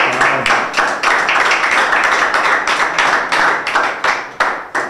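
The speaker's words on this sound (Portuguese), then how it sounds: "Aplausos um pouquinho, Cleber." Audience applause at a rap battle event, dense and loud, a crowd clapping steadily throughout with sharp overlapping claps and no talking.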